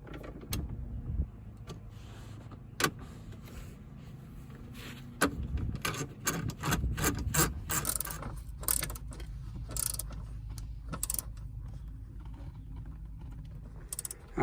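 A van seat is fitted back into place, giving a run of irregular metallic clicks, ratcheting clunks and knocks, some sharp and close, scattered over quiet background noise with no speech.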